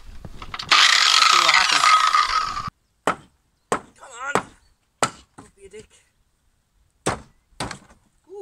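A heavy rotating ground mount for solar panels dropping onto stacked 2x4 timbers and blocks outdoors on a hillside, a sustained grinding rumble followed by several sharp wooden thunks and knocks separated by pauses, with a voice in between.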